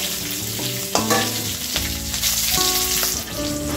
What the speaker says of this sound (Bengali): এখন আমি ভালো করে ফোড়নটা ভেজে নেব।